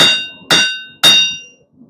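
Three loud, ringing hammer blows strike hot steel on an anvil at a blacksmith's forge, evenly spaced about half a second apart, each with a bright metallic clang that decays quickly.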